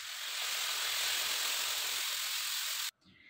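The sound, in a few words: water poured into a hot pan for zunka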